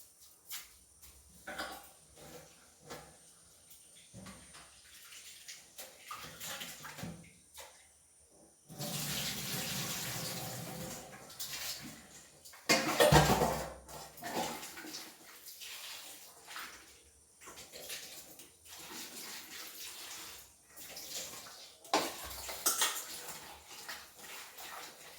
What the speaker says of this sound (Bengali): এবার চাল সবজি সব কিছুটা ধুয়ে নিই।